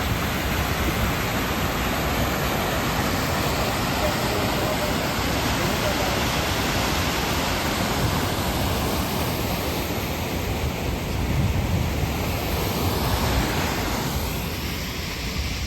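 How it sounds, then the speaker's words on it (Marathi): Loud, steady rush of water pouring out of a burst dam and churning nonstop, a dense roar filling the whole clip with no pauses. "हा बंधारा या ठिकाणी फुटलेला आहे त्यामुळे पाणी सर्व खाली जात आहे"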